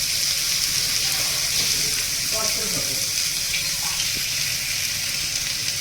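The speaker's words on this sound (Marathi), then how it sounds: "आता याच्यात मी पाणी ॲड करते" Water pouring into a pressure cooker for soup: a continuous, fairly loud rushing splash that runs steadily throughout.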